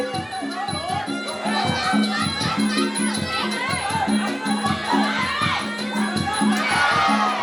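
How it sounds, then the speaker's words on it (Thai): A Muay Thai fight crowd roars and chants in rhythmic bursts for the red corner, loud, close and surging in regular waves, with shouting voices woven through the din. "เสียงเชียร์มุมแดงนี่คือ"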